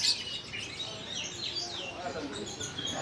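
Caged little chicks at a market in Bali chirp in a busy stream of high, thin peeps that run continuously beneath nearby market noise.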